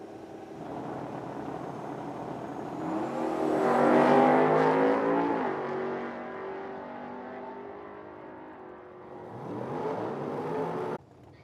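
Drag race cars, including a Nova, launch from the starting line at a summer drag racing event in Medicine Hat, Alberta. A loud engine roar climbs in pitch and fades, then a second car revs up near the end.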